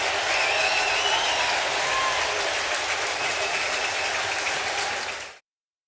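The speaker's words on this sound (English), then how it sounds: "Nice ovation for the big, tall left-hander." Baseball stadium crowd at a Braves vs Mets game giving a sustained ovation with loud applause and cheering for a departing tall left-handed pitcher, steady roar that fades out abruptly at the end.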